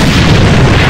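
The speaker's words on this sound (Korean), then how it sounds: "전방 수류탄!" A grenade explodes in the shooter game A.V.A, a loud, deep, rumbling blast filling the whole moment with low booming energy.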